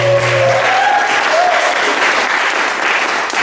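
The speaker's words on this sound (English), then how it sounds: "So I want you to give a big round of applause to Brian Yarwood." A full round of audience applause at a Vermont barn dance show, loud and sustained throughout, with a brief whistle-like tone near the start.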